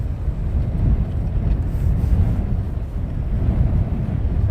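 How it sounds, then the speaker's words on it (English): Heavy wind buffeting a microphone out on the apron at Luton Airport: a continuous, loud low-frequency rumble and roar with no clear pauses, filling the whole stretch. "And very windy indeed."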